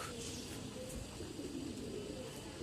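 Pigeons, a blue-eyed punky breed in a Lalbagh loft in old Dhaka, coo softly and steadily over a constant hum of background noise.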